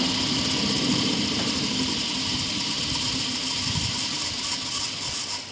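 A DC shunt generator set runs in a lab as its speed is wound down, giving a steady mechanical whirring hum with a faint rattle throughout, loud and close without talk.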